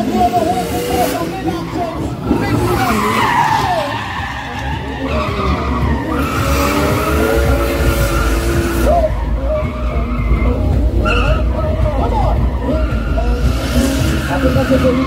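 Drifting cars at a car show in Trinidad, with loud, sustained tire screeching and skidding over roaring engines and crowd noise, continuous throughout.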